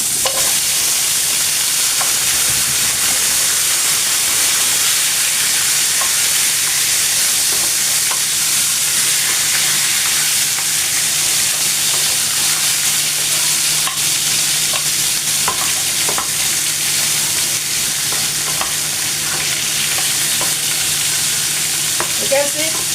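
Oxtail browns in a pot for Jamaican brown stew, a steady dense sizzle of frying meat that runs unbroken for the whole stretch, with faint stirring clicks and no voices over it.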